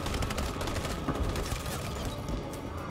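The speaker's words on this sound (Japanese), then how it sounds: "一斉射撃だ。" Dense, continuous gunfire from many weapons in Detroit: Become Human fills the scene, a rapid overlapping volley with no break.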